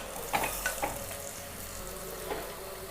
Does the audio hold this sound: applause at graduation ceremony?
no